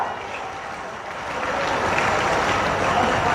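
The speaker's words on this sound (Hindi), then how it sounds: "आप तालियां बजाइएगा।" A crowd at a public welcome event for the chief minister in Haryana claps, the applause swelling after the first second into a loud, sustained wash of hands.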